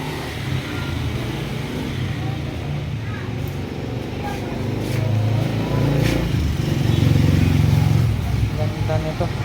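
A 2004 KTM EXC 200 two-stroke motorcycle engine idles and runs steadily nearby, a dense buzzing drone that swells louder toward the end, with people talking over it.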